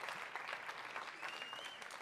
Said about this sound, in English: You can do the clapping again.